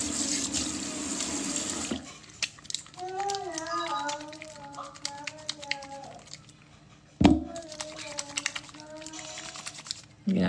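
A tap runs briefly at the start, then keyboard-like clicks and a voice follow, with a sharp knock midway.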